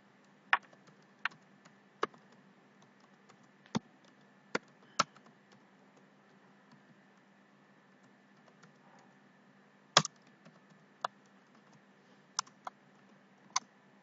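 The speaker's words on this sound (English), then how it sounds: "Now just type your program." A C program is typed on a computer keyboard in sparse, irregular keystrokes, each a sharp distinct click over a quiet background with long pauses between presses.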